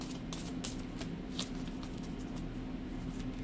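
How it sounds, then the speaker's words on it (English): Tarot cards shuffled by hand, a quick run of crisp riffling flutters and soft slaps, close and fairly quiet, with no talk. "All right, I'm going to shuffle 3 more times."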